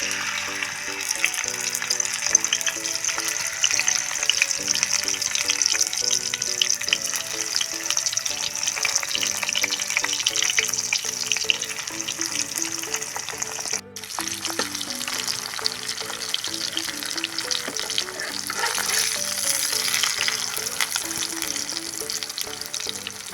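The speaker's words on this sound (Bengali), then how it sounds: "আমার তেলটা গরম হয়ে গেছে আমি তেলের মধ্যে দিয়ে দিচ্ছি দেখুন" Ash gourd leaves coated in mustard paste fry in hot oil, giving a steady, loud, continuous sizzle that runs the whole time, with light stirring scrapes and a brief dip in the middle.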